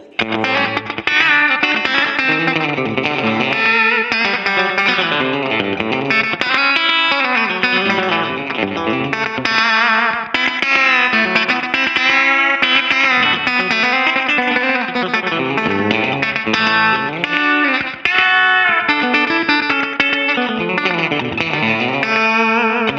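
A Fender 50s reissue electric guitar plays a country-style tone through effects with some distortion, chorus and reverb, a steady continuous run of bright picked notes and chords with no talk.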